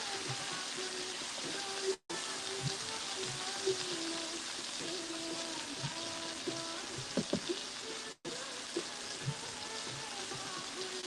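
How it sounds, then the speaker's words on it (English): Food fries in a hot pan in a home kitchen, a steady crackling sizzle with scattered pops running throughout, loud and close with no talking over it. "I'm frying it, so it's giving it that more grilled sort of taste."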